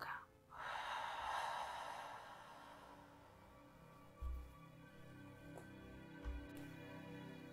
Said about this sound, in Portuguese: E solta. Expirando pela boca.